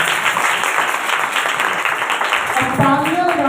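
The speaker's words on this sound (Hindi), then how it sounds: "जबरदस्त मौत के लिए जरा जोरदार तालियां" Audience applause at a Hindi-language religious gathering, a steady dense wash of clapping from a crowd that carries on throughout, with a brief swell near the end.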